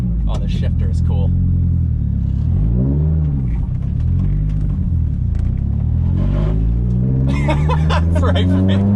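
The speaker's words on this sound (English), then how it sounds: "I guess you gotta give it a little gas on startup." An 800 whp Mitsubishi Evo 8 engine starting and revving, a loud, close rumble that rises and falls through several throttle blips, with people talking over it inside the car.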